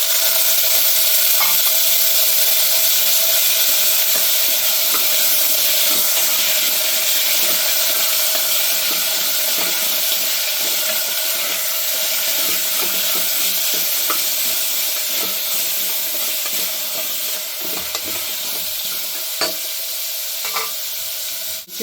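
Curry leaves and vegetables frying for a sambar of chow chow and jackfruit seeds, a loud, steady sizzle close by, with stirring scrapes and occasional clicks throughout and no voices.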